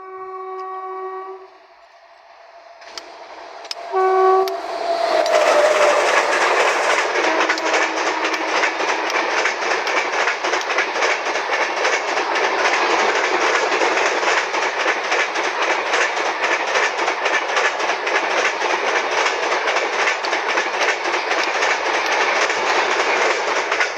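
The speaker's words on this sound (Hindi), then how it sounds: "भुवनेश्वर आउ आनंद विहार सुपरफास्ट रूपसा स्टेशन रे अतिक्रम कला।" A train horn sounds briefly, then the Bhubaneswar–Anand Vihar superfast express roars through Rupsa station at close range with a steady, loud rush and rattling of wheels that continues for many seconds.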